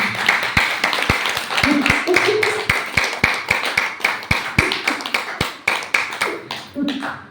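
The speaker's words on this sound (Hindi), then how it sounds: "ताली बजा दो" An audience claps hands in a steady, sparse rhythm of distinct sharp claps at a health camp gathering, while a person talks continuously over them.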